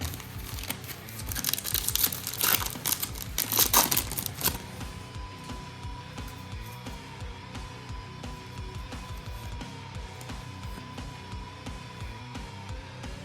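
Upper Deck Series 2 hockey card packs are torn open close by, with dense crinkling and ripping of foil wrappers for a few seconds, then quieter rustling and handling of the cards.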